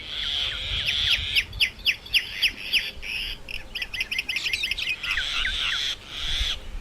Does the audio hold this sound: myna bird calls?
yes